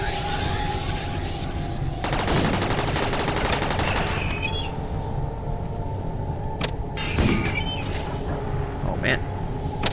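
Rapid bursts of gunfire from a Rimworld colony battle, dense crackling volleys in the first seconds then sporadic shots, under steady game ambience and someone talking.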